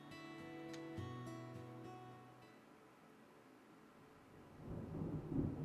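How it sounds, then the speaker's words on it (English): Deep rolling thunder of a thunder-snow storm in the video game Deadly Premonition 2, rumbling low under a sustained musical tone, then a second, louder rumble swelling near the end. "Big black cumulonimbus clouds are in the sky. And that sound. Thunder snow is coming."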